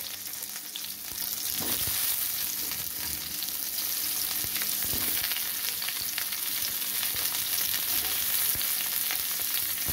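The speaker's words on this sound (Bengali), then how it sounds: "আমার আলু আর ফুলকপি ভাজা হচ্ছে" Potato and cauliflower pieces fry in a pan, sizzling steadily and loudly with occasional stirring scrapes, close up and without talk.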